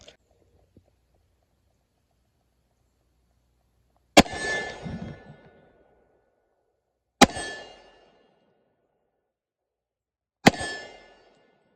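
Three loud, sharp pistol shots from a Glock 41 in .45 ACP fired at a target, spaced a few seconds apart with short ringing decay after each and quiet in between.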